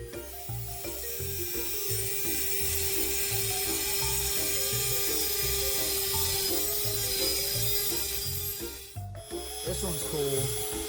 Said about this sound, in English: We're going to use the Dremel, and we're going to make some fishing spoons.